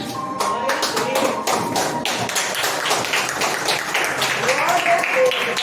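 A church congregation applauds together, a dense, steady stretch of clapping with a few louder taps, while a voice speaks over the applause.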